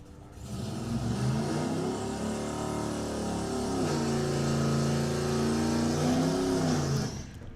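A Camaro drag racing car accelerates hard at a drag strip, its engine winding up through rising, roaring revs for several seconds, loud and continuous, then cutting off abruptly.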